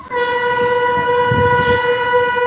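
A diesel-hauled Nilgiri mountain train running from Coonoor to Ooty sounds a loud, sustained horn note, close and continuous over low rumbling.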